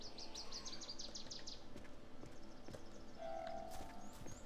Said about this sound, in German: Und da höre ich auch die Vögelchen zwitschern.